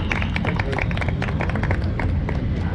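An audience at a University of Lucknow centenary science festival ceremony applauds with steady, dense clapping that fills the whole stretch at an even, loud level.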